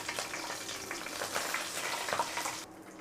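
Dried red and three green chillies crackling in hot oil for a South Indian tempering after urad dal, a steady soft sizzle with faint pops, close and fairly quiet, cutting off near the end.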